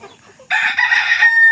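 A chicken suffering from a severe snoring respiratory illness gives a single loud, close call with harsh, raspy tone lasting about a second, after a short quiet start.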